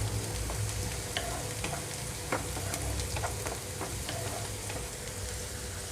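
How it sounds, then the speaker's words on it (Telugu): Onions frying for aloo kurma, sizzling steadily in a pan with a spoon scraping through them now and then, a continuous close hiss broken by soft stirring scrapes, with no talking. "ఉల్లిపాయలు ఇంకొంచెం వేగిపోవాలి ఇక్కడ మనకి ఉల్లిపాయలు ఇక్కడ మధ్య మధ్యలో కలుపుతూ ఉండండి"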